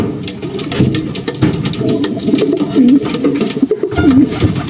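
A racing pigeon coos close up, repeating low throaty calls over several seconds with soft rustling behind them.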